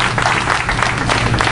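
A church congregation at a prophetic healing and deliverance service claps for a guest: a dense, steady round of applause that fills the room and stays close and loud from start to finish.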